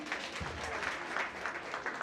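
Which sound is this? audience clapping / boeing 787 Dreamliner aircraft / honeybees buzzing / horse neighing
audience clapping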